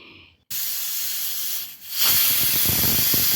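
A pressure cooker holding toor dal vents steam in a loud, continuous close-up hiss that bursts in after a brief quiet, dips for a moment, then surges even stronger, with no voices present.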